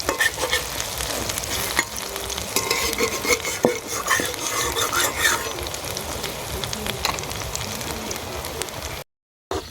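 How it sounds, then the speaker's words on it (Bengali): Oil sizzles and crackles steadily around frying bok phool (hummingbird tree flower) fritters, with scattered scraping and clinking of a utensil in the pan, close up. "আর এক পিঠ ভাজবো। তো উল্টে দিলাম বড়াগুলো।"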